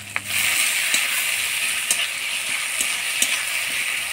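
Dried shrimp fry with a spice paste of onion, garlic and green chili, making a steady, close sizzle with light scraping knocks from stirring at irregular intervals.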